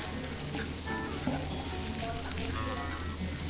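Grated coconut, coriander seeds, fenugreek seeds and curry leaves roasting in a hot pan, giving a steady, close sizzle with faint scraping of stirring throughout.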